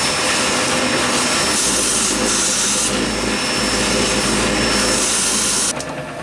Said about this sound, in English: The vacuum cleaner sounds like it's starting to get a little bit full.